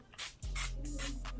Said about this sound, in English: I'm just gonna spray this all over this section